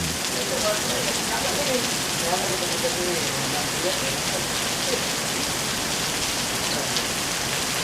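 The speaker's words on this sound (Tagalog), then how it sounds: "Lakas ng ulan, guys." Heavy rain pours steadily, a dense hiss of drops on surfaces with no break, loud and close throughout.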